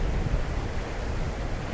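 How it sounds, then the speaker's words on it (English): Very large Atlantic Ocean waves crash against the rocks of the jetty at Ponce Inlet, Florida, a steady, dense roar of surf and spray that continues without a break. "These are very large waves crashing up against the rocks of the jetty"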